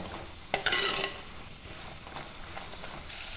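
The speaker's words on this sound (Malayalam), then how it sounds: "വെണ്ടയ്ക്ക ഒന്ന് വഴറ്റിയെടുക്കാം. ഒരു 2-3 മിനിറ്റ് മീഡിയം ഫ്ലെയിമിൽ വെച്ച് ഇളക്കി കൊടുത്താൽ മതിയാകും." Okra (vendakka) sautéing in a pan on medium flame sizzles quietly while a spatula scrapes and stirs it in a few brief bursts, with a sharper clatter near the start, and no one speaking.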